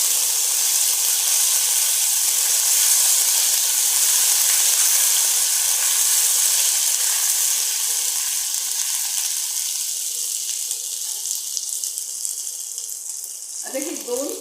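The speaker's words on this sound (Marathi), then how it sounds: "आलं लसणाची पेस्ट घालत आहे. आणि ही परतून घेते." Ginger garlic paste hissing in hot ghee in a pan, a loud, steady, close sizzle that eases slightly toward the end, with no voices.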